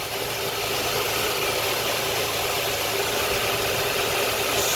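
A 2006 Ford Explorer V6 engine idling with a new serpentine belt, a steady, even running hum and whir with no jumps or breaks, heard close and alone.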